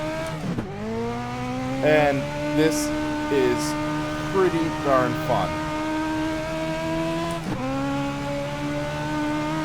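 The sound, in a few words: iRacing 34 Coupe dirt car driving, video game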